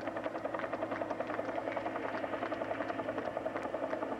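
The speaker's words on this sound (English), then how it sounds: "Over the helicopter noise." Steady helicopter noise throbs throughout, a continuous rotor chop and engine hum with no pauses, moderately loud and unchanging.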